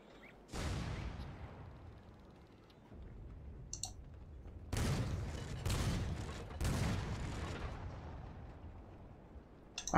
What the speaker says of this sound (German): Baller mal mit ein paar Kanonen dahin.